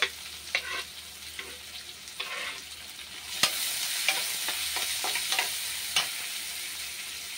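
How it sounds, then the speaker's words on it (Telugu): Onions fry in oil in a pan for a raw-cashew paneer curry, a steady close sizzle broken by repeated scraping stirs of a spatula, with no voices. "ఆనియన్స్ మంచిగా ఫ్రై అయ్యేంత వరకు ఫ్రై చేసుకోవాలి"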